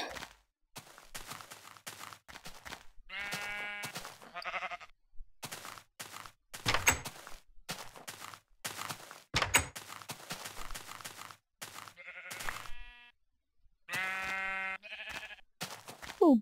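Repeated bleats from sheep in the video game Minecraft, a few separate calls spread across the stretch amid steady game sounds and footstep-like clicks, fairly loud and close.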